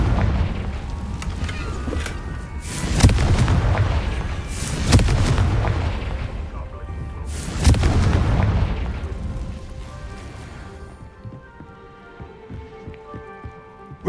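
Confringo fire spell explosions in Hogwarts Legacy, three heavy booming bursts a couple of seconds apart with crackling debris, then a fading rumble and quieter game ambience.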